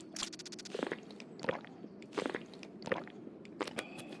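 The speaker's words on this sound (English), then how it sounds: "I'm going to chug a water" Character in Escape from Tarkov gulping down water in repeated wet swallowing and squishing pulses, close and fairly quiet, spaced roughly every half second to second.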